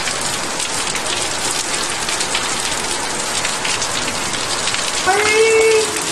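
Heavy rain pours down steadily during a thunderstorm in southeast Queensland, a loud, dense, continuous hiss of drops on surfaces with a brief tonal sound near the end and no voices.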